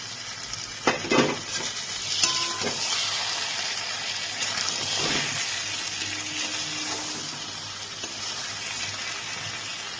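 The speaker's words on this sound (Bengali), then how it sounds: "এবার আমি এর মধ্যে ভেজে রাখা বড়িগুলোকে দিয়ে দিচ্ছি" Fried lentil dumplings go into a simmering papaya and potato curry, with a soft continuous sizzle, a few clunks and scrapes of stirring, and gentle bubbling throughout.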